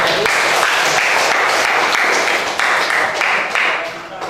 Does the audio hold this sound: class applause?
yes